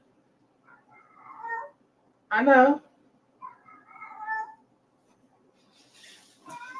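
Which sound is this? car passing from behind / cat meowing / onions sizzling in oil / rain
cat meowing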